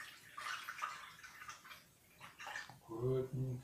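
Sauce poured from a container over stuffed peppers packed in a tray, a soft liquid splashing and gurgling in short bursts, ending with a louder, steadier pour close by.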